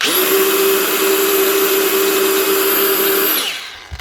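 A Milwaukee angle grinder runs steadily with a loud, constant high whine and a slight whirring tone, then spins down and stops near the end.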